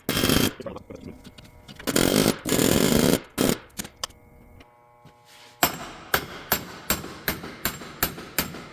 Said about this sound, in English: So after hammering here and here, it just comes right out.